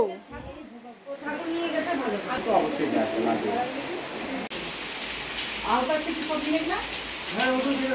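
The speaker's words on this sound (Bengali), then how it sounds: "তার জন্যই বৃষ্টিটা নামলো" Steady rain hissing on surfaces with voices talking over it throughout, the downpour continuous and fairly close.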